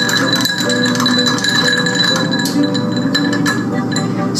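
Ice clinking against glass as a bourbon cocktail is stirred, a steady loud jingle of small ringing taps with bright tones throughout, no voices.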